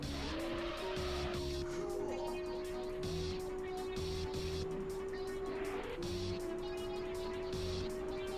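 Engines roar continuously in a car race in the video game Auto Modellista, with a Dodge Viper among the cars. A steady high engine whine runs throughout, with bursts of tire squeal and skidding, and no talking over it.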